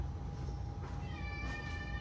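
A cat meows once, a short faint cry rising over a low steady hum of background rumble.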